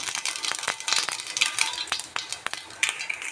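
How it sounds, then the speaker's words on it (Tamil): Rapid crackling and popping as mustard seeds hit hot oil in a pan for sambar, sharp sizzling bursts scattered irregularly, close and moderately loud. "கடுகு போட்டுக்கலாம்"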